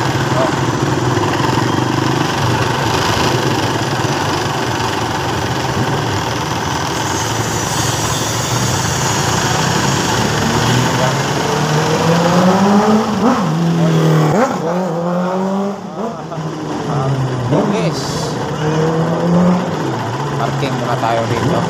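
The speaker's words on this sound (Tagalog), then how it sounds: "Medyo maluwag ang takbo ng mga sasakyan dito, no?" Traffic rolls along a street in Dumaguete City. Cars and motorcycles run past, with engines steadily droning and revving, and near the end an engine winds up and down. People talk over the continuous traffic.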